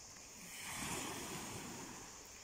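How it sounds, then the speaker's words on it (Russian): Sea waves at dawn on a Turkish shore swell in a soft, broad surge and then ease back, heard from a short distance with a faint wind hiss and no voices. "послушаю шум волн."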